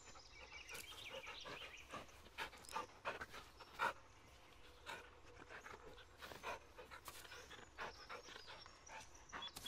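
Close, rhythmic panting from a dog in the Blair Witch game, quick breaths repeating steadily, with scattered footsteps and small bumps around it.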